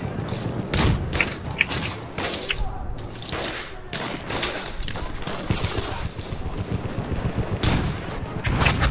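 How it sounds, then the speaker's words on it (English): Battlefield 1 battle with a grenade blast among heavy gunfire, repeated booms and rattling shots crowding the whole stretch, loud and close, with little pause between bursts. "Oh, that's a grenade."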